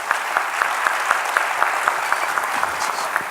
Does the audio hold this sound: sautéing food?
no